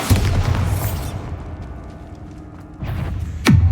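A Bombarda spell blast in the game Hogwarts Legacy: a heavy boom at the start decaying into a rumbling tail, followed by a second sharp burst near the end, loud and close.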